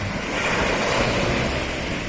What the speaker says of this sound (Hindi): समुद्र का वेव देखिए, क्या आवाज़ है।